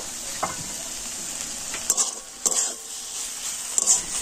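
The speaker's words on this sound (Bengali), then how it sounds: "তো এবার আমি আবার ঢাকা খুলে নেড়ে দেব" Cabbage paturi cooking in a pan, stirred after the lid comes off: a few distinct scraping strokes over a steady soft sizzle, close and fairly quiet, with no talking.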